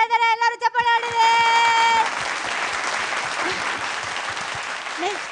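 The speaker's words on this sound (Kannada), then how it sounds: "ಎಲ್ಲರೂ ಚಪ್ಪಾಳೆ ಆಡಿದೆ" Studio audience on a Kannada TV game show bursts into loud, dense applause after a few brief musical tones, the clapping holding steady and close to the end.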